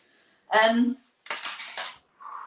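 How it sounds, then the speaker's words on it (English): A metal spoon clinks and scrapes against a bowl while mixing sesame oil, salt and sugar seasoning, in three short bursts with brief pauses between. "I'm gonna get a spoon to marry our things."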